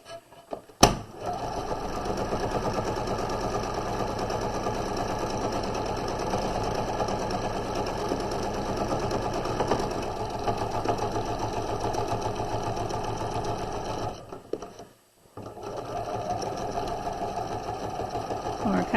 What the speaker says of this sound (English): We're going to stitch over that a little bit and back stitch